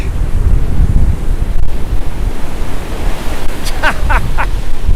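Atlantic Ocean surf at Delray Beach, South Florida, as Hurricane Nicole approaches, roars in a constant broad wash of waves and wind buffeting the microphone, with a few faint high chirps near the end.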